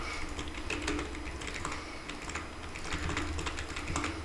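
Quiet, rapid clatter of computer keyboard keys pressed in irregular bursts during gameplay, with no voices.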